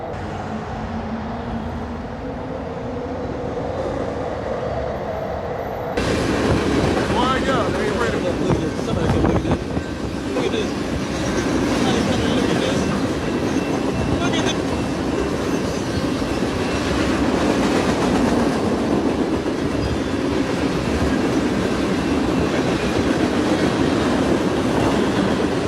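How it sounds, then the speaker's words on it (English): A speeding train roars past a railway crossing with lowered barriers, a loud sustained rumble and rattle of wheels on rails that jumps up suddenly and holds for many seconds, with a voice speaking over it. "a speeding train roared past just behind him"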